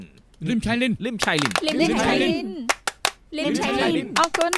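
A few sharp hand claps welcome someone back to the company, short and crisp, heard alongside steady conversation from several people.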